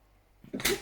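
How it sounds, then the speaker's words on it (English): A single quick sneeze bursts out after a brief quiet moment, fairly close and moderately loud. "I'm going to sneeze, excuse me."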